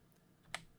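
A few keystrokes on a computer keyboard, typing a length value during drafting work. One sharp, fairly clear click stands out near the middle, with fainter taps before it in a quiet room.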